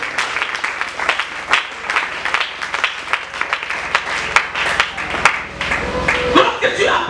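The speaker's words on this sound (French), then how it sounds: "Acclamez pour le Seigneur." A church congregation claps and applauds together, steady dense clapping running throughout at close range, with voices mixed into the crowd noise.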